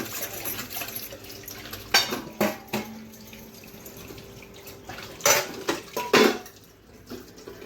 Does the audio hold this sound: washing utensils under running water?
yes